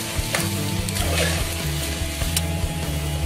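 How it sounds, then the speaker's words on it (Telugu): Chopped onions sizzling in oil in a pan while being cooked until golden, with a steady frying hiss under clanking metallic stirring and scraping, close and moderately loud, no talking. "చూసారు కదా, బాగా ఫ్రై అయ్యాయి ఆనియన్స్."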